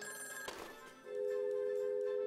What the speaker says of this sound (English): The phone is ringing. Phone's ringing.